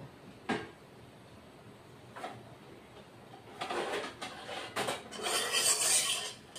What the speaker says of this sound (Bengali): এবার আলুটা ভেজে নিব, আলুটা ভেজে নিয়ে তারপরে কাঁঠালটাও অল্প ভেজে নেব।